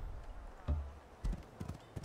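Dwarves riding pigs in the video game Age of Wonders 4, several soft thudding hoof-like footfalls in an irregular rhythm over a quiet, low background.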